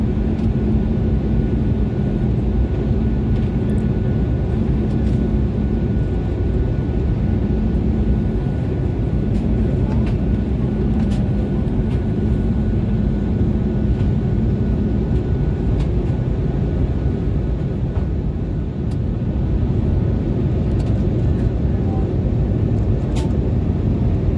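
Airliner cabin during a night landing approach into Mumbai, a loud steady roar of engines and airflow filling the whole clip, with faint announcement-like voice barely rising above the drone.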